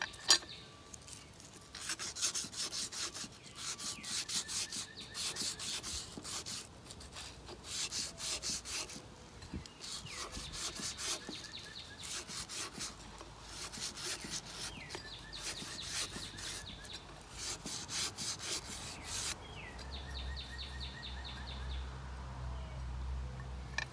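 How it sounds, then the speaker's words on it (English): Steady back-and-forth rasping of sandpaper on a wooden edge, rhythmic strokes repeating close by for a long stretch, with brief pauses and no talking. "You'll also want to start sanding off on the edges of the lid"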